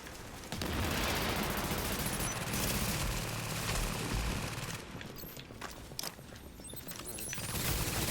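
Gunfire in the shooter video game The Division: dense, continuous bursts of automatic fire and scattered shots fill the scene, loud and close, easing briefly before picking up again.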